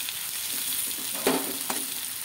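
Potatoes for Kashmiri aloo dum sizzle steadily in a pan, with two sharper spatula scrapes as they are stirred partway through.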